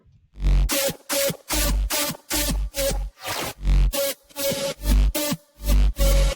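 Electronic dance drop built with heavily distorted, thick synths and punchy kicks from a remake, loud choppy bursts separated by short gaps in a driving rhythm.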